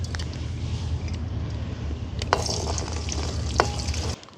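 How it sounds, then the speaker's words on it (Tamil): Fenugreek, fennel and mustard seeds dropped into hot coconut oil in a village kitchen: a steady, close, hissing sizzle with a couple of sharp pops, heard alone without talking. "நாங்கள் எடுத்து வச்சுருக்கிற வெந்தயம் பெருஞ்சீரகம் கடுகை போட்டுக்கொள்வோம்."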